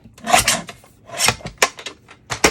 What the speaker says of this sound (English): trim off my height, and then trim off my width